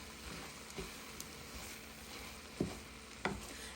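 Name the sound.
sauteing corned beef and cabbage ingredients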